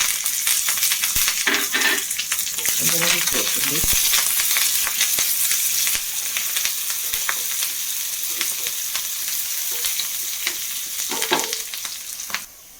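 Sliced shallots, dried chillies and curry leaves fry in hot oil with a loud, dense, continuous crackling sizzle, close up, with occasional stirring scrapes and no voices, easing slightly toward the end.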